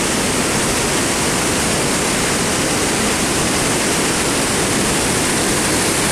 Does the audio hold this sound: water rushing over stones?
yes